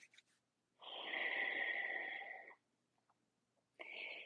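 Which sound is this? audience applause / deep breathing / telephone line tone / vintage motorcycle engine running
deep breathing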